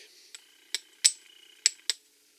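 Hammer blows tapping parts snugly into place while assembling an Echo leaf blower: five sharp, separate metallic strikes of varying force, close and clear in a quiet room, with no talk.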